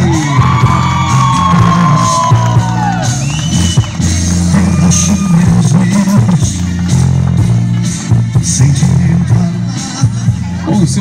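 A small audience at a live birthday message for Ney whoops, yells and cheers over steady clapping, loud and close, with sharp bangs scattered through the noise.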